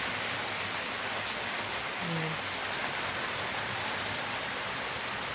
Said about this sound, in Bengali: দেখো ঝড় দিচ্ছে আর বৃষ্টি হচ্ছে পটপট পটপট করে।